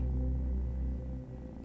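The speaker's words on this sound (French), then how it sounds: "Le ronron délicat et doux d'un chat noir qui se trouve perché sur un arbre près de vous." A black cat perched in a tree purrs close by, a steady, soft, low rumble that continues evenly with little change in level.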